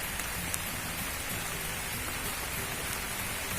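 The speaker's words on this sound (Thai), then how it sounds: "ฝนกำลังตกอีกแล้วจ้า" Steady rain falls on a banana planting plot, a dense even hiss of drops with no voices, continuous from start to end.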